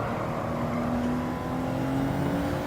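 A car engine in Gran Turismo 7 holds a steady, smooth accelerating drone with a rising tonal whine, loud and continuous throughout the short stretch, with no voices over it.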